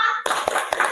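A standing group clapping together in a classroom ice-breaker, three or four broad claps in a quick rhythm over a steady hum of room noise.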